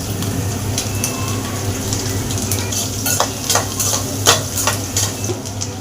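Chopped garlic sizzles steadily in hot oil in a pan that also holds lightly roasted cashews, while a utensil stirs and scrapes with irregular clinks, growing busier toward the end.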